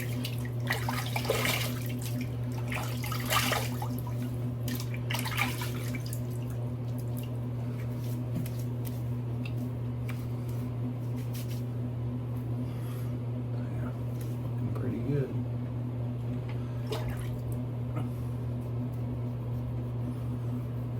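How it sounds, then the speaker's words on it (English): After a shave, water runs and splashes in a sink under a steady background hum, with scattered drips and light splashes from rinsing close by. "Let's rinse and we'll get the post shave started here."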